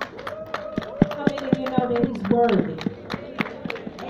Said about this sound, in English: Let's give our God a holy hand clap